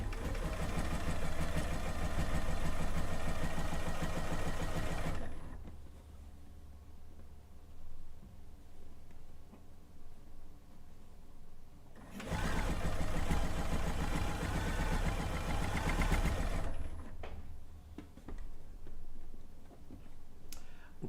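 A sewing machine runs top stitching on binding in two long, steady bursts of rapid whirring, loud and close, separated by a quieter pause with small handling clicks.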